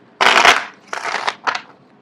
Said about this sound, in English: I don't know why people like to see the card shuffle live